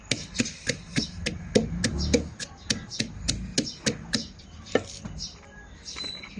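Steady, rhythmic pounding in a mortar while a Thai spicy banana salad is prepared with ingredients such as field crab, about fifteen close, sharp thuds in a regular beat that slows near the end.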